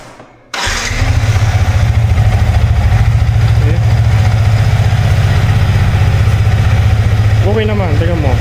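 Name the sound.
Yamaha MT15 v2 motorcycle engine idling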